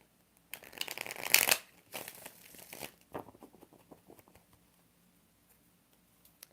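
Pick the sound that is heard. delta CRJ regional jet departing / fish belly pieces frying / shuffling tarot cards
shuffling tarot cards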